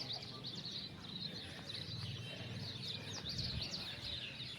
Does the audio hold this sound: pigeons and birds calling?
yes